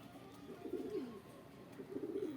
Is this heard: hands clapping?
no